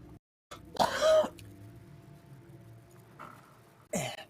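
A harsh hacking cough, two rough bursts heard close and loud, separated by a quieter stretch of low breathy noise.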